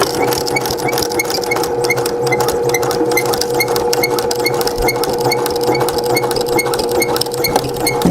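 A sewing machine stitches steadily to reinforce the edges of a fabric coupon wallet pocket, a continuous close mechanical whir with a fast, even needle rhythm and no pauses.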